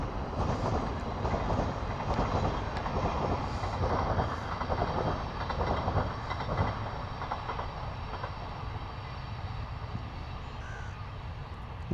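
A steady, broad rumble of a train rolling past in South Norwood, London, continuous and fairly close, with no voices over it.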